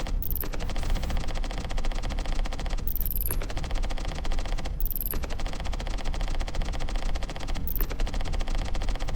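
A LiDAR scanning gun fires in the indie horror game Blinded by Fear, a rapid mechanical rattle of clicks running in long bursts with brief bright ticks between, loud and steady with no talk.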